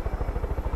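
A helicopter's rotor chops loudly and close in the video game Far Cry 5, a quick, even beat under a steady engine drone.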